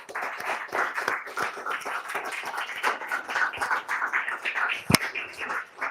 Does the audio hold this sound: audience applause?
yes